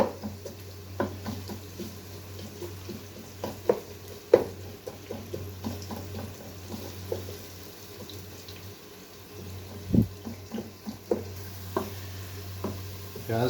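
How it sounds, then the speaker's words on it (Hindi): Onions frying in hot oil in a pan for a chicken and chickpea curry: a low, steady sizzle with scattered soft scrapes and stirring knocks, fairly quiet and with no talking. "पैन में हमने ऑयल को गरम कर लिया है। यहाँ पे हम अनियंस को ब्राउन कर लेंगे, लाइट ब्राउन करना है हमने।"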